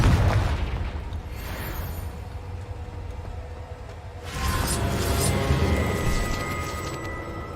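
Fiery spell blasts go off in a cave in a wizarding video game, a booming roar followed by a sustained rumbling burst that swells again midway, loud and close.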